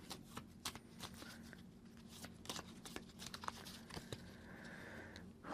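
Cards being shuffled by hand at a tabletop during solo play, faint close taps and rustles in an irregular rhythm, quiet and without voices.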